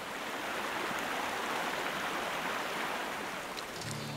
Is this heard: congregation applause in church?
no